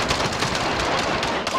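Dense automatic gunfire from the Warzone video game, rapid overlapping shots rattling continuously and loudly throughout.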